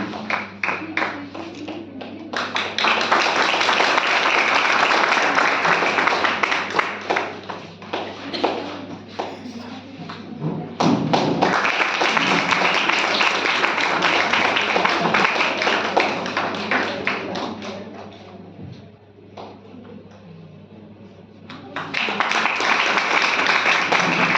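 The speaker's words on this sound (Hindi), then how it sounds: "तो तालियां बजती रहनी चाहिए इन कलाकारों के लिए।" An audience claps for the artists at a performance in Gangapur, Varanasi, in long, loud bursts of applause that fade out twice before starting up again over a low, steady hum.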